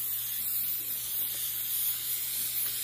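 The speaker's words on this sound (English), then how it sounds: "I'm going to go ahead and spray my wood with my shellac." Zinsser spray shellac hisses steadily from an aerosol can onto wood, a continuous close spray with no talk.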